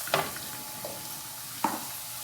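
Tender jackfruit for edichakka frying in a pan: a low steady sizzle broken by a few sharp scrapes of stirring, close by with no voices.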